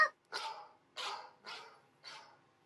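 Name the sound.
dog barking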